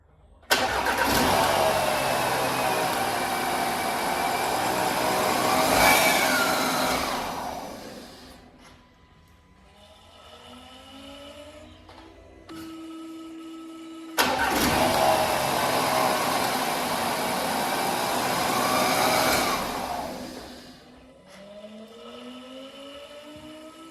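A newly fitted engine in an Audi A4 TFSI 35 cranks and fires up, settling into a steady loud idle before shutting off, then is started again and idles once more; close and clear with no talking.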